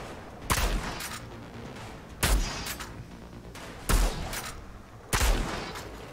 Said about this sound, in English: We're still using our sniper